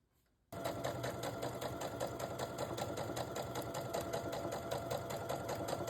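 A sewing machine stitches fabric for a boxy bag, starting abruptly and running steadily with a fast, even mechanical rattle, close and loud, with no talking.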